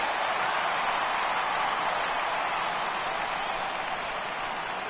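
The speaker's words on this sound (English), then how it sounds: "So he receives a nice ovation from this home crowd" A home crowd at a baseball playoff game in MLB The Show 18 gives a departing pitcher an ovation, a steady, unbroken wash of applause and cheering that holds at an even level throughout.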